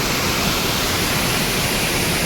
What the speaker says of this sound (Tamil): தண்ணி சவுண்டு கேட்குது பாருங்கள் உங்களுக்கு.